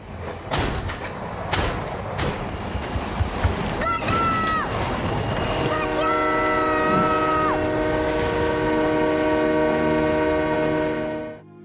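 A moving train rumbles steadily and loudly nearby, with clanking at first, then a sustained whistle or horn tone and squealing rail noise carrying on to the end.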